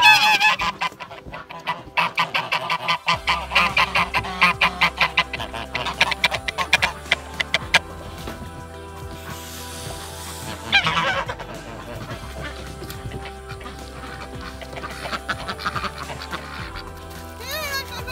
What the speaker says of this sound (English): the geese greet the new morning.